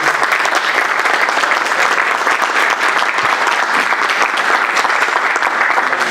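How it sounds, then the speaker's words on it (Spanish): An audience claps steadily and densely after a presentation, a full, even burst of applause close by that lasts throughout without pause. "Muchas gracias y un aplauso"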